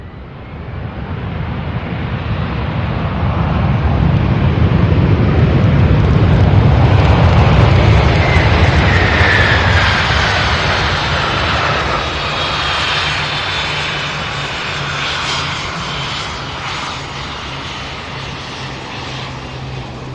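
A McDonnell Douglas MD-11 jet landing at SDF airport, a broad, rushing engine roar that swells to a loud peak as it passes, then slowly fades while still rumbling in the distance, with no voices.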